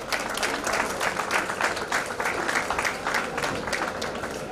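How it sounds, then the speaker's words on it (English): Conference audience gives an award a round of applause in a hall, with dense clapping carrying individual claps and a light pulsing rhythm, moderately loud and unbroken. "please give him a big round of applause"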